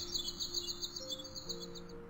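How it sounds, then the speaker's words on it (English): Bird chirping at a bird feeder in a video game: a quick, rhythmic series of high, bright chirps repeating over a soft background hum, fading near the end. "The bird is too far for me to catch it."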